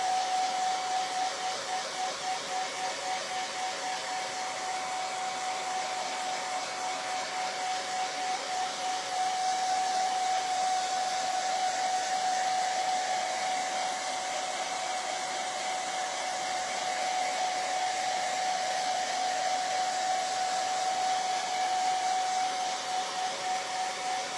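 A dryer blows a steady, loud, high whine across a painted DIY wood barn quilt kit, running continuously without a break and with no talking over it.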